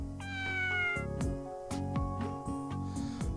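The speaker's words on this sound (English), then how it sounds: "What a cute cat." Cat in the video game Persona 2: Eternal Punishment meowing repeatedly in short, clear calls over a steady game music loop, with no talking.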